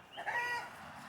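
A hardy chicken with feathered legs gives one short, fairly close cluck-like call outdoors in the snow, with quiet surroundings before and after.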